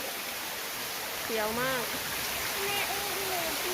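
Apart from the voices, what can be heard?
waterfall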